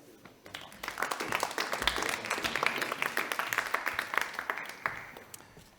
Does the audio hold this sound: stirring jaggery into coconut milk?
no